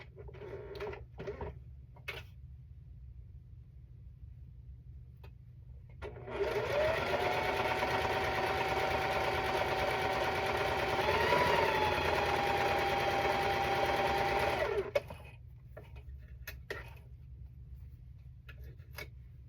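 A sewing machine runs a steady quarter-inch seam joining quilt strips for a Halloween and cat block, whirring continuously for about eight seconds, close and loud against a quiet room, then stopping abruptly.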